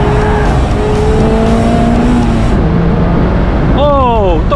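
A 2023 Mazda MX-5 Red Top manual convertible downshifts and corners on a mountain road. The engine drones steadily, then a quick burst of rising revs blips near the end.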